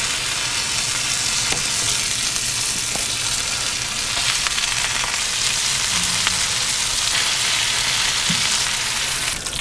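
Slices of pork belly sear fat side down on a hot cast iron griddle over a Kamado Joe grill, giving a loud, continuous, even sizzle with faint crackles and pops throughout.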